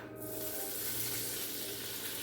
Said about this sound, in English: We're going to add the beer